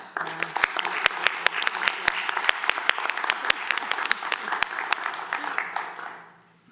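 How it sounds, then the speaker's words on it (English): Applause follows a round called for at a city council meeting, with sharp individual claps standing out over a steady, moderately loud patter. The clapping fades out over the last second. "how about a round of applause?"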